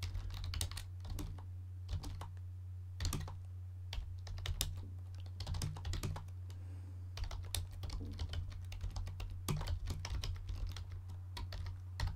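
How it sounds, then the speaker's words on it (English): Rapid typing on a portable USB computer keyboard, a steady stream of close, crisp key clicks with brief pauses over a low constant hum, no talking. "You'll have to excuse my typing."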